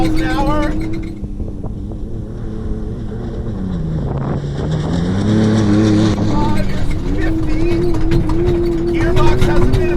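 A homebrew Ford Ranger trophy truck accelerates flat out across the desert, its engine note dipping and then climbing steadily through the gears close to the microphone, with wind buffeting and occupants talking over it.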